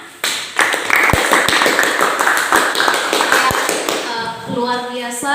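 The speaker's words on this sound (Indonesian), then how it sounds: "Tepuk tangan untuk hasil kelompoknya." A group at a church discussion session for parents claps for a presentation. Scattered, uneven taps and claps run as a busy patter that thins near the end, where a voice begins speaking.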